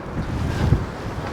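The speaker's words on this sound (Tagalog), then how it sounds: "Tapos ang lakas ng hangin." Strong wind roars steadily across the microphone in a low, rumbling gust, with no voices.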